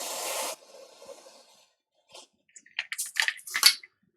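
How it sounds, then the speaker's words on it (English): A broadband hiss of freeze spray onto a Samsung Galaxy S3 circuit board at the start, then a few short, crackling spurts and faint hisses follow after a pause. "just hit it with a little bit of freeze spray"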